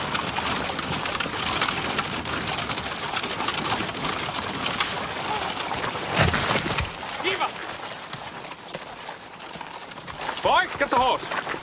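Horse hooves clip-clop steadily on a street, a continuous rhythmic clatter against busy background noise, with people talking over it.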